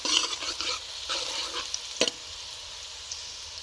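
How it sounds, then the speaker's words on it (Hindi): Onions fry in a pan for sarson ka saag, a soft steady sizzle broken by a few scraping stirs and one sharp clack of the spoon against the pan, fairly quiet and without talk. "प्याज़ों को हमने थोड़ा सा लाइट सा गोल्डन ब्राउन करना है"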